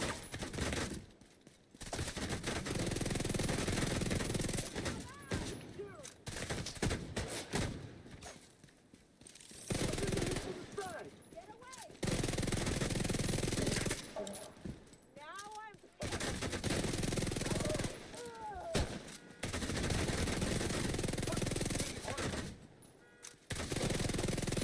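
Sustained bursts of gunfire fill a Warframe firefight, loud and dense with brief gaps between volleys over about twenty-five seconds, with mechanical clatter and scattered game sounds mixed in.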